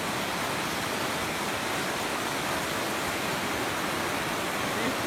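Clean, clear water rushes steadily at a natural bathing spot, a dense, even wash of sound like a small waterfall or stream, constant and close with no breaks.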